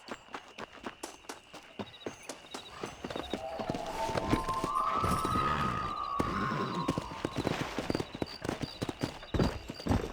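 Horse hooves clip-clop steadily while riding in the Western video game Red Dead Redemption, a close rhythmic beat with a brief whinny partway through, under faint background game sounds.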